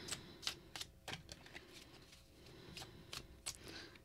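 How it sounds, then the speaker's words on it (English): Tarot cards are shuffled by hand close up, giving quiet, crisp riffling snaps and flicks that come in an irregular, ticking rhythm against near silence. "I'm going to shuffle these live on camera"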